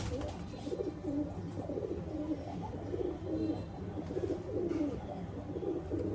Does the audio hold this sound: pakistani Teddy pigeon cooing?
yes